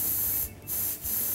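An airbrush sprays candy tangerine paint over skull designs on a car hood, a steady close hiss that stops briefly twice as the trigger is released, then resumes.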